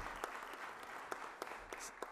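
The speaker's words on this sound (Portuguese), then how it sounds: "Eu peço uma salva de palmas" Faint, distant applause from a crowd at a formal ceremony, a soft continuous patter of clapping with a few sharper claps standing out.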